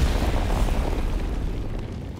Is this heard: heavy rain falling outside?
no